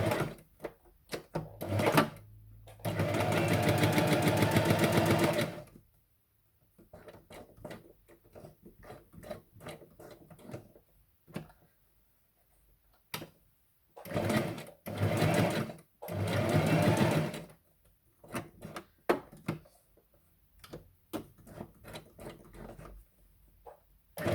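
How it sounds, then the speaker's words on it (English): A sewing machine runs a straight stitch around a paper journal tag in loud mechanical bursts of a few seconds each, stopping and starting, with quiet handling noises in the pauses. "Now this one I sew also around, but with a straight stitch, maybe a messy stitch."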